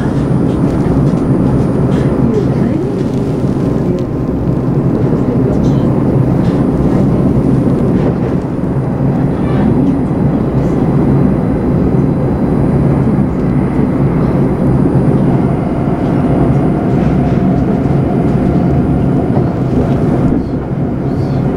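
Linimo maglev train running toward Fujigaoka terminus, heard from the front cab: a steady, loud, continuous broadband rumble and whoosh with a low hum, unbroken throughout.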